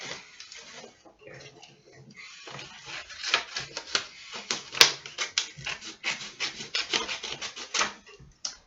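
Close, crisp snipping and rustling of paper, a rapid irregular run of cuts that grows busier and louder partway through.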